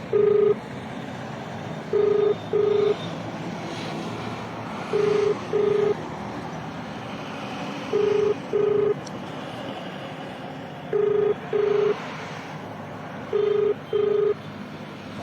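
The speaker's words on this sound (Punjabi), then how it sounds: "ਤੋ ਦੇਖ ਸਕਦੇ ਹੋ ਬੈਲ ਜਾ ਰਹੀ ਹੈ" A telephone ringback tone sounds while calling a municipal corporation office, in paired beeps repeating roughly every three seconds, clear and steady over faint background noise.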